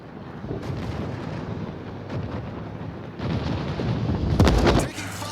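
Naval guns fire during a World of Warships battle, heavy booming blasts rolling under a continuous rumble, building to a loud, dense cluster of shots near the end.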